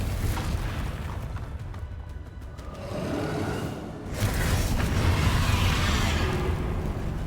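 A spell explosion cast by a player in a Hogwarts wizarding video game, heard as a broad rumbling boom that swells and rolls on for several seconds under a steady roar, with no one talking.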